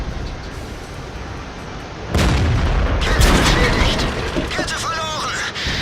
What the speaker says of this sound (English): That was a shot from the Jag Panther 2 that blew his track off.